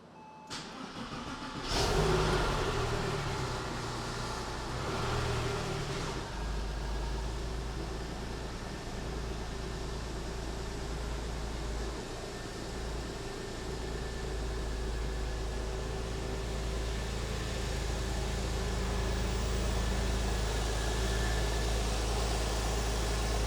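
A rare Porsche engine, just back from an engine-out service, cranks briefly and catches. It then settles into a steady, close, loud idle with a constant low rumble that lasts to the end, with no talk over it.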